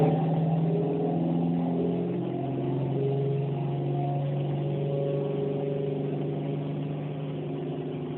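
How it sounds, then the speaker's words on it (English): A car engine with a Terminator X fuel-injection system holds steady, elevated RPM on a dyno, a continuous droning hum with stable tones and no talk over it. "Take the RPMs up a little higher."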